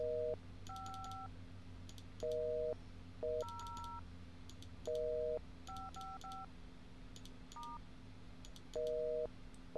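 Telephone keypad dialing tones in the video game Purrgatory, a series of short, clean two-pitch beeps of varying lengths pressed in an irregular sequence over a quiet steady hum, with no talk.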